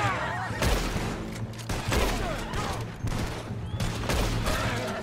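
Rapid gunfire during a Red Dead Redemption 2 shootout: dense, loud volleys of overlapping shots with echoing tails, firing in bursts across the whole stretch.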